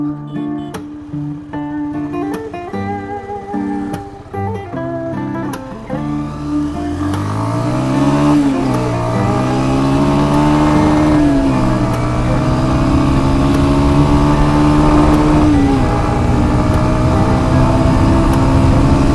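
An old Bajaj Pulsar motorcycle engine cranks and catches, then idles before climbing into loud, sustained revving that rises and falls close by.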